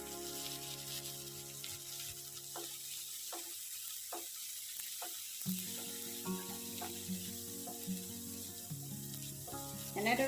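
Crown daisy greens and egg frying in a pan, a soft steady sizzle throughout with occasional light clinks and scrapes, no talking.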